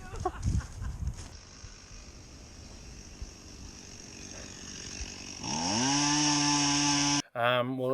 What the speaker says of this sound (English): it's Battle of the Chainsaws in Opah today by the sounds of the neighbourhood